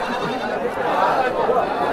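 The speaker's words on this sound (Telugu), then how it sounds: "గొర్రెల బ్యాచ్లు కూడా వచ్చినట్టున్నాయి" Sheep bleat continuously in a crowded livestock market also holding goats, a dense overlapping chorus of animal calls mixed with nearby voices and general market bustle.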